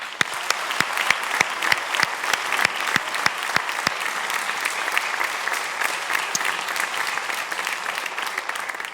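A studio audience at a televised Italian singing show claps steadily, with sharp individual claps up front at first and then a dense, even wash of applause that holds at moderate loudness.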